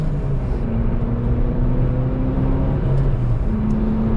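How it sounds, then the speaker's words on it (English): A 2002 Ford Puma with the 1.7 engine accelerates on the road, a steady loud drone of engine and road noise heard from inside the car, with its pitch stepping up through the gears. "As you can see, it accelerates pretty well"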